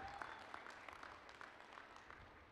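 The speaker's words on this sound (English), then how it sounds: "That deserves some applause." Audience applause at a community college commencement ceremony, a brief spell of scattered clapping that sounds faint and distant in a large venue.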